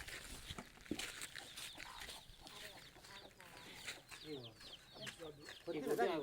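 A hen clucks repeatedly near her nest of eggs in a village coop, with close, irregular bursts of clucking and fowl calls that become louder toward the end, mixed with faint speech.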